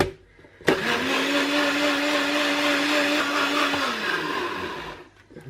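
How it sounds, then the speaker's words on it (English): A countertop blender whirs through a keto smoothie, starting with a sharp click into a loud, steady motor whine that holds for about four seconds, then winds down and stops. "And I've got my blender all set up and we'll get it on to blend."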